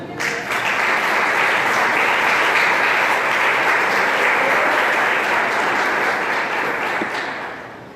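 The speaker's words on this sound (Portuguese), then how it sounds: "Quero que você dê uma salva de palmas ao Senhor" A large church congregation applauds loudly and continuously for several seconds, a dense wash of clapping that fades slightly at the end.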